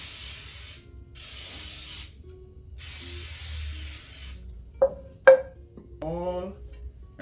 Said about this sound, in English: This is a baking spray with flour, so you don't have to flour the pan